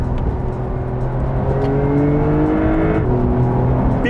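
A Porsche 911 Carrera of the 992 generation with a turbocharged engine revs hard, its loud, close engine note climbing steadily in pitch under acceleration with no talk over it.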